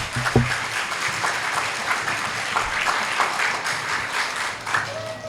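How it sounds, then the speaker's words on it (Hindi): Crowd clapping at a devotional kirtan gathering, a thick continuous wash of many hands with a few louder claps standing out near the start, filling the whole clip at even strength. "वो बच्चे की तरह ताली बजाता है।"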